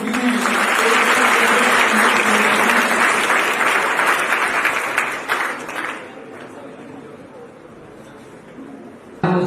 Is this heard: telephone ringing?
no